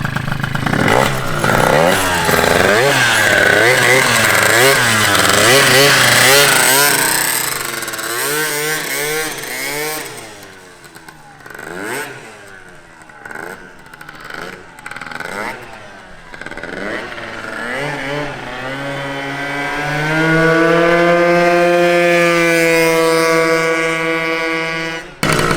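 120cc stroker Honda Elite scooter revving hard as it takes off, its engine pitch climbing through rapid shifts, dipping mid-run, then winding up to a loud sustained whine near the end.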